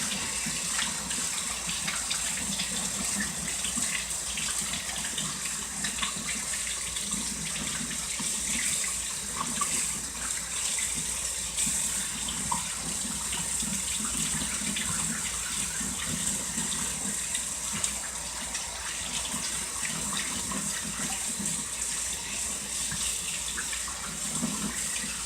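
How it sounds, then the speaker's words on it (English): Cold water runs steadily from a tap for a long stretch, a continuous splashing gush with small shifts as a freshwater fish is rinsed under the stream. "Rinse it out in cold water."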